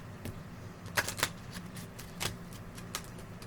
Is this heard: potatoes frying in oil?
no